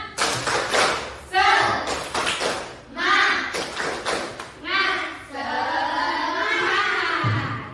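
A class of children performs the 'tepuk semangat' chant, with bursts of rhythmic group clapping alternating with loud chanted voices in a steady, patterned beat.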